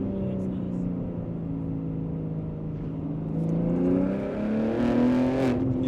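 A BMW M3 G80 or M2 G87 fitted with an OPF-delete exhaust builds from a low drone into a rising, raspy rev. The exhaust is loud and close, with voices in the background.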